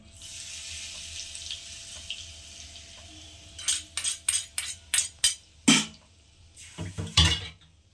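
Curry-leaf tempering poured from a small pan into mango chutney: a quiet, steady kitchen background, then a run of sharp, splashy sizzling bursts and clinks in quick succession, ending with a longer final burst.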